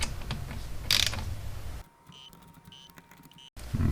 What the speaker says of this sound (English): I'm going to go back and torque these other ones down.